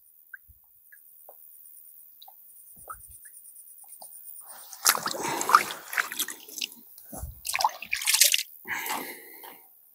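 Water drips and splashes at night as a carp is released back into the water, with a few faint drips at first, then a burst of closer, livelier splashing and trickling.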